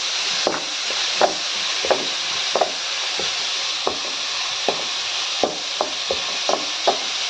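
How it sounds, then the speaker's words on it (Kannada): Aloo paratha potato filling frying in a pan, a steady soft sizzle broken by repeated light scraping and stirring knocks from a spatula at an uneven rhythm. "ಇದನ್ನು ಇವಾಗ ಚೆನ್ನಾಗಿ ಫ್ರೈ ಮಾಡಿಕೊಳ್ಳಿ"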